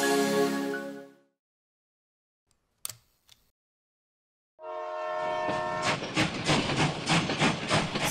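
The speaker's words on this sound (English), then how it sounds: "So the train ride from Jaipur to Agra was 5 hours" A train horn blows, fades into silence broken by a few sharp clicks, then a louder horn sounds over the clattering rumble of a moving train between Jaipur and Agra, India.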